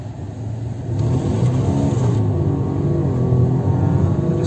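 A 2007 Audi A3 with a 2.0 engine and automatic gearbox revs hard from idle. Close, loud mid-range engine roar swells sharply, holds, then eases off, with no voices over it.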